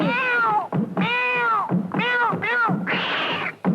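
A cat meows loudly and close, four or five drawn-out, rising-and-falling calls in quick succession, set within a Hindi song about a cat.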